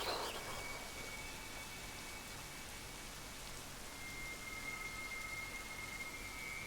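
Steady rain ambience for a tabletop role-playing game scene, a continuous even hiss of falling rain with faint tonal whines drifting through, heard alone without talk.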